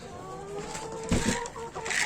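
Ornamental chickens cluck in a coop, with short bird calls scattered over a steady low farmyard hum and a louder burst partway through.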